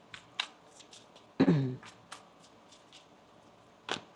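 Tarot cards being shuffled during a reading, a soft riffle and bridge of the deck with a loud burst in the middle and a few light taps and flicks around it, close and quiet otherwise.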